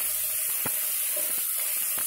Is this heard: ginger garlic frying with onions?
yes